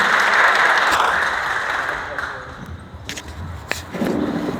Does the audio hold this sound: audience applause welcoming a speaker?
yes